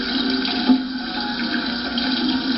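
Water runs steadily from a kitchen faucet during home cooking, a constant close rushing hiss that holds throughout with no talking.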